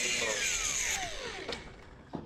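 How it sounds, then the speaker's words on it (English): An angle grinder cuts the lip off a polycarbonate roof glazing bar, with a loud high whine that winds down in a falling pitch, then a few light knocks and taps. "I just use my angle grinder to cut that piece off"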